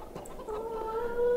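Chickens clucking in a farming video game, a few soft, close clucks and a thin tonal call rising over a quiet background, alone with no talk.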